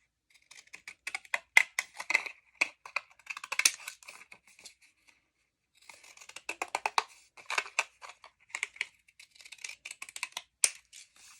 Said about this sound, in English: The edge is going to be a little different with these scissors.